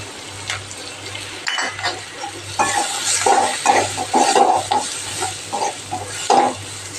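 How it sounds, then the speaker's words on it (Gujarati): Gram flour and spice mix frying in a pan for onion paratha filling, stirred with a utensil: close sizzling with repeated scraping and clattering strokes against the pan over a low hum. "આપણે ફ્રાય થવા દઈએ"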